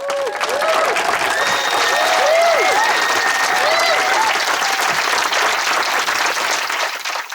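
An audience claps in a full, steady round of applause lasting several seconds, with a faint tonal whooping or whistle-like sound rising over the clapping early on.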